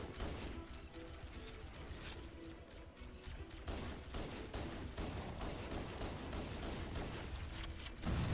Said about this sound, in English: The pistol's really good at taking out banshees.